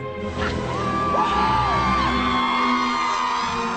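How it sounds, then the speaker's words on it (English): Young fans at an event for actor Daniel Radcliffe scream and whoop as a crowd, high shrill voices swelling and overlapping continuously, loud and close throughout. "all you have to do is sort of turn around and wave, and they scream"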